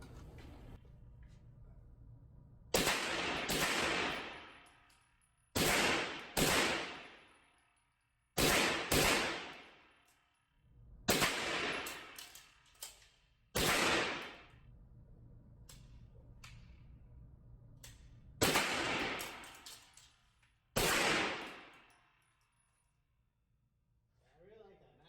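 Gunshots from a CROM USA gun being test fired ring out, about eight sharp, loud reports spaced a few seconds apart, some in quick pairs, each with a short decaying tail, and people talk quietly between shots.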